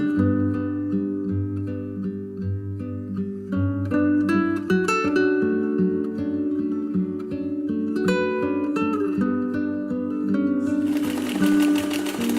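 A sewing machine stitches steadily while understitching the facing of a vintage 1939-style summer dress, its motor hum running continuously and close up, with light music-like tonal sounds layered over it and no talk.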